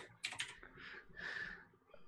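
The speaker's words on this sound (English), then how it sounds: "you're not going to find it with typing in Google" Quick bursts of typing on a computer keyboard while searching Google, a few close clicks followed by softer key presses, faint and alone without talking.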